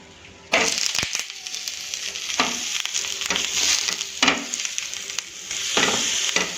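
Urad dal chila sizzling steadily on a pan over low gas, with several short scraping bursts as it is flipped; no voices, frying close and continuous.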